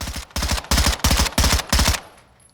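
Six rapid bursts from an MP5SD6 in Call of Duty Modern Warfare II, each a tight cluster of loud close shots separated by brief pauses, ending in a short fading tail.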